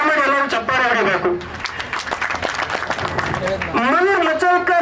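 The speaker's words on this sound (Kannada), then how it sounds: "ದಯಮಾಡಿ ಎಲ್ಲರೂ ಚಪ್ಪಾಳೆ ಹೊಡಿಬೇಕು." An audience claps together at a school reunion and teachers' tribute gathering at a government higher primary school. A dense burst of applause fills the middle, with a voice speaking before and after it.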